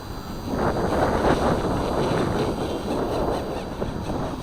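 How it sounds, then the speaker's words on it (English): Strong wind roars across the microphone in a constant, loud, rushing buffet that barely lets up. "That's very windy"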